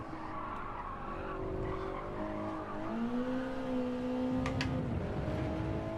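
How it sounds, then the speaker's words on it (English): Car braking hard with tyres skidding and squealing in the racing game Gran Turismo 7, a sustained tonal screech rising and sliding in pitch over steady engine noise, loud and continuous throughout. "that's when we're braking."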